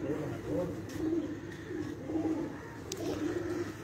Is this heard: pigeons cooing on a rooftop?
yes